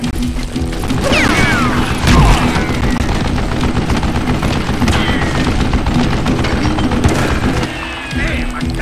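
Gunfire in the Western video game Call of Juarez Gunslinger, dense rapid shots and mechanical clatter running almost continuously, with a heavier boom near the start and a brief dip near the end.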